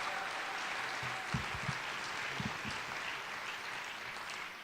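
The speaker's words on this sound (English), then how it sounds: "A very special round of applause for our wonderful mistress of ceremonies" An audience at a swearing-in ceremony applauds the mistress of ceremonies. The applause is fairly soft and steady, as if heard from a distance, and a few louder thumps come through near the start.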